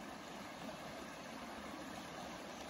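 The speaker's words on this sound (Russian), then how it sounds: "Шум воды." A river swollen by spring snowmelt and rain rushes past as a steady, even broadband roar of flowing water with no breaks or other sounds.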